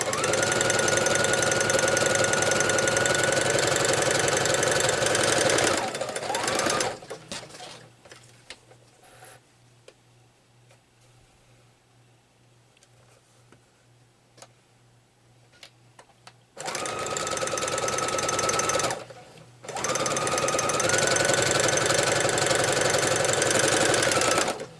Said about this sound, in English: and I'm just going to sew it down.